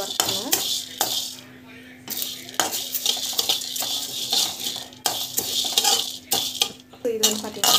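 Curry leaves dry-roasting in a pan for temple-style puligore podi, with repeated sharp metal spatula clanks and scraping against the pan, close and busy throughout.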